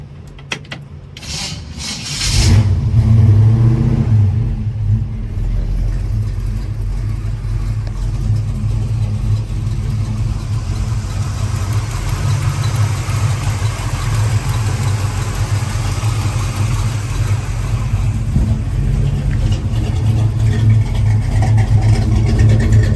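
A 1957 Chevrolet Bel Air V8 cranks over, catches and settles into a steady, loud, close engine rumble with occasional revs rising toward the end, with no one talking.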